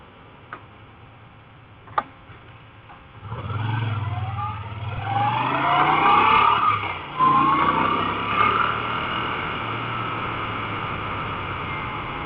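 A Moto Guzzi V7 III Stone motorcycle accelerates from rest. A couple of sharp ticks come first, then the engine note climbs steadily through the gears with wind roar, loud and close from the rider's position.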